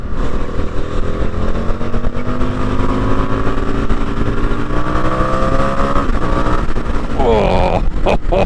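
An Indian FTR1200 motorcycle on the move, its engine droning loud and close, the revs climbing and falling through gear shifts, with a sharper change in pitch near the end.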